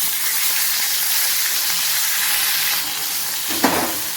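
Pomfret fish frying in oil, a loud dense sizzle heard close up and steady, with a brief clunk near the end.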